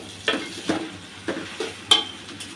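Pasta noodles tossed with fried onion, green chili and tomato in a pan, five or six distinct stirring scrapes and clinks of a spoon against the pan over a soft sizzle, close and evenly spaced.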